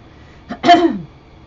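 A single short cough with a throaty catch, close and fairly loud, alone against quiet background.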